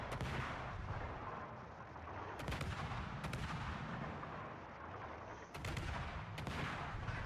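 Naval gunfire in World of Warships from a Gearing-class destroyer battle: a few distant, booming salvos at irregular intervals over a constant low rumble of sea and engine noise.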